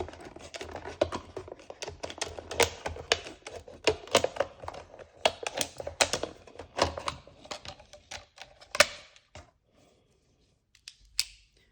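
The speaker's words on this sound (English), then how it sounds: "you cut the top off the bottle, just like this" Razor knife cutting the top off a plastic bottle for a homemade geocache container, a close run of sharp crackling snaps and ticks as the plastic is pierced and sliced, thinning out to a few isolated clicks at the end.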